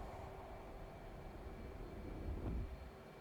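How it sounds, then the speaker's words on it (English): Steady broadband jet roar from an F/A-18 Hornet lighting its afterburner for takeoff in the DCS flight simulator, a continuous engine rush that swells slightly near the end with no talk over it. "Afterburner."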